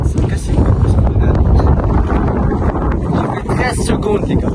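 Strong outdoor wind buffets the microphone in a continuous loud low rumble with gusty surges throughout, while a person speaks over it.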